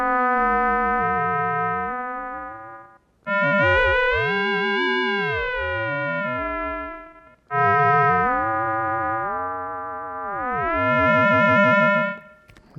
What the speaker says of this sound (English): It's going to be a modulated sound, but because I have this really audible 1 kilohertz tone as the master oscillator's frequency